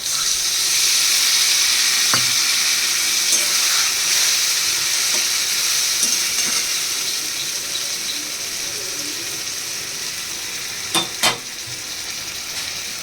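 Poppy seed paste fries in a pan with a loud, steady sizzle throughout, broken by a few clinks and scraping stirs near the end.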